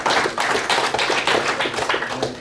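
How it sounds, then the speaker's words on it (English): A crowd claps together in a lively burst of applause, uneven and continuous, fairly close and loud for a couple of seconds. "give Jarvis a round of applause"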